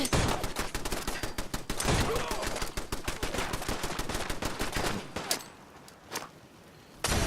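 Rapid, loud gunfire from the video game Fallout 4 rattles in a dense burst for about five seconds, then two more isolated shots follow before another burst at the very end.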